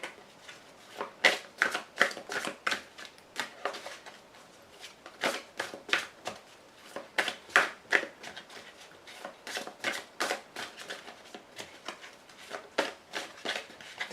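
Tarot cards are shuffled by hand close up, a long run of crisp, fast riffling flicks and soft slaps that come in uneven bursts, quiet overall and with no voices.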